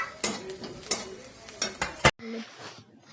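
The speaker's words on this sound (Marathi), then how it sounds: "इकडं कढईमध्ये कांदा परतायला टाकलेला आहे" Red onion sautéing in a kadai: several sharp scraping stir strokes over a steady sizzle, close and fairly loud, ending with a softer, quieter stretch of frying.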